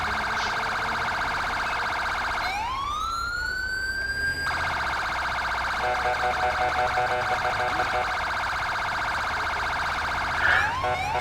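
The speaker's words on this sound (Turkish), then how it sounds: "Yol ver, yol ver, yol ver, ambulans yol ver." Ambulance siren in GTA 5 during an emergency-response mission, a steady wailing tone that rises into a loud sweeping whoop partway through and continues alongside engine and traffic noise, with no talking.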